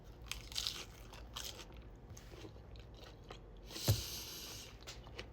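Someone eats a taco salad burrito with sour cream, taco meat and corn up close, producing quiet crunchy bites and soft chewing with one sharper crunch midway.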